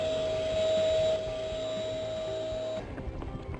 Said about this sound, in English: So I'm going to inflate the display